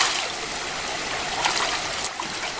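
Fresh water flows in a stream with a steady, continuous rushing babble, close and even throughout, with a few brighter splashy spots near the end.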